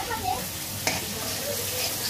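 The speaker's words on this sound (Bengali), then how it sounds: "পেঁয়াজ আর রসুন ভাজা হয়ে গেছে," Onion and garlic fry in a pan with a steady, close sizzle, and a single spatula knock is heard briefly partway through.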